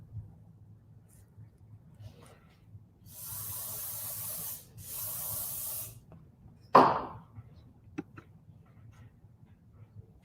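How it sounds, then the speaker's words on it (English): Two steady hissing sprays from a spray bottle of cleaner onto a towel, each lasting over a second, followed by a soft rubbing swipe and faint handling noises during aircraft restoration. "So I'm going to spray it on a towel and wipe it through."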